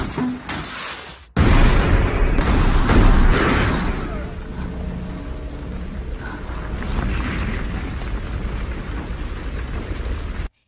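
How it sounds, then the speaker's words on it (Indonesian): An RPG strikes a house: a sudden loud blast bursts in, followed by crashing debris and a long roaring, crackling rumble that slowly settles, close and heavy. "tiba-tiba sebuah RPG menghantam rumahnya"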